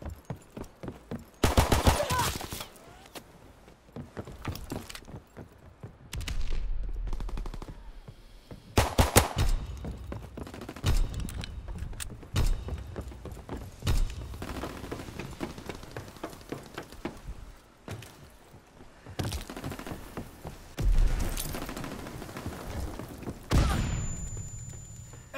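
Pistol fire in a WW2 video game comes as repeated sharp shots in quick bursts, mixed with distant battle gunfire and crackling throughout.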